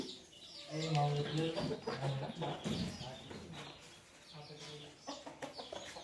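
Parrot-nose chickens, a rooster and a laying hen, cluck nearby in short repeated bursts while a person talks over them.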